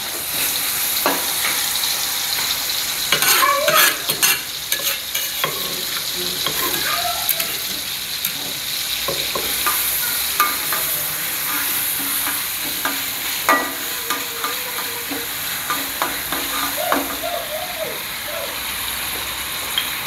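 Sambal spice paste sautéing in a frying pan: a loud, continuous close-up sizzle and crackle with scraping stir strokes throughout, steady and dense for the whole stretch.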